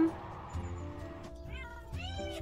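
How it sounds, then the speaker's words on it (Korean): A cat meows several times in short, rising cries, close by, over low household background noise. "고양이 소리가 나요"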